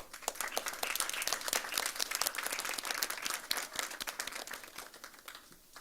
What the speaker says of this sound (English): can we give one more big round of applause to all of our poets?